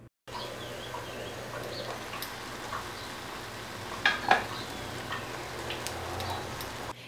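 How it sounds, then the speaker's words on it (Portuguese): White rice frying in a partly covered pot, with a dense, faint crackle and popping at the bottom of the pan, steady throughout, with a couple of sharper clinks midway. "É um barulhinho de fritura, como se realmente tivesse um monte de pipoquinha estourando no fundo da panela."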